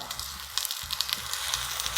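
Onion sizzling and frying in a pan with a pinch of salt while cooking a sausage and dark beer risotto, a steady close crackling hiss with small pops, no talking.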